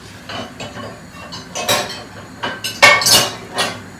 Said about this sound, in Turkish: Onlar orada pişerken ben de bulaşık makinemi yerleştireyim